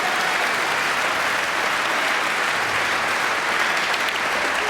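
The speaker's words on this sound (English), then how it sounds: "The crowd erupts here at the Ali Pali" A packed crowd at the Masters snooker at Alexandra Palace bursts into sustained, loud applause, a dense unbroken roar of clapping filling the hall.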